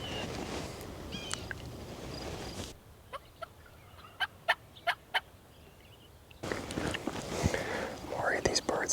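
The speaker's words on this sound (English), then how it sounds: "they're gobbling a little bit" Wild turkeys gobble from a field in Nebraska during a spring hunt, several short, distant gobbles in a quick cluster, with hushed whispering before and after.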